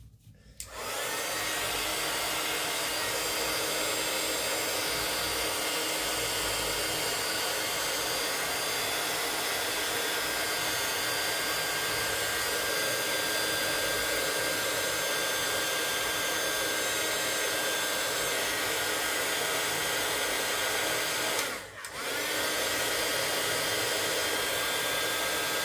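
A heat gun blows hot air over acrylic paint with a continuous, loud, steady whoosh-hum, briefly cut off near the end and then restarted.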